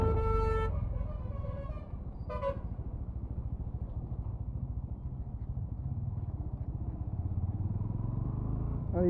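A Bajaj Pulsar NS160 motorcycle engine drones with a steady low, pulsing rumble while riding, and two short vehicle horn toots sound near the start.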